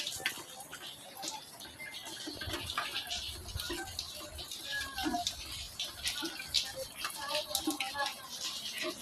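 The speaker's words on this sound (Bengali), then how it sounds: "ছাদের থেকে পানি পড়তেছে।" Rainwater pours and drips down from a roof during a storm, making a faint, steady splashing with scattered drips and voices talking over it.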